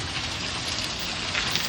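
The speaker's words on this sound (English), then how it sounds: "But it's not actually, it's still hailing." Hail pounds down during a June storm in Arlington, Texas, in a dense, continuous clatter like heavy rain drumming on surfaces, loud and close with no pauses.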